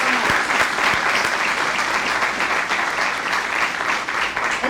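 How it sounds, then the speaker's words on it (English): A room full of people gives sustained applause for two legislative debate candidates at a college venue, with dense, steady clapping close by that holds at a constant level throughout. "How about a round of applause for both of our candidates for their commitment to democracy?"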